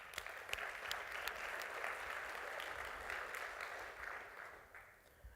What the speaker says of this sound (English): So why don't we just do one round of applause for the organizers and the incredible work that they've done.